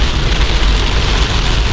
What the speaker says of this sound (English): Yeah, this is a downpour.